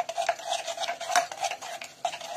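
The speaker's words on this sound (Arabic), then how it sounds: "نبقى نخلط هكذايا" Melted white chocolate stirred in a pan with a utensil, producing close, rhythmic scraping strokes that repeat every fraction of a second, with no talking.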